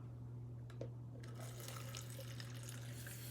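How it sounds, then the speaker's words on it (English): Tap water runs into a Honolulu blue cup in a quiet room: a soft, faint splashing trickle that starts partway through over a steady low electrical hum. "and then put water into it"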